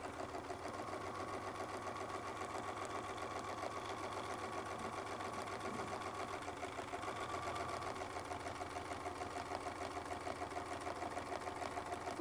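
A sewing machine quilts a fabric sandwich with a Westalee ruler foot, its rapid needle chatter running continuously and evenly at close range.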